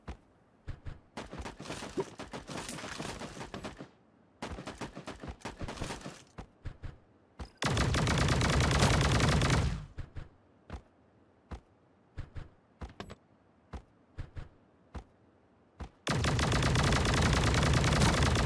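Gunfire in the battle royale game Sausage Man, with rapid bursts of shots and sustained automatic fire in several clusters across the clip, loud and close, with no talking over it.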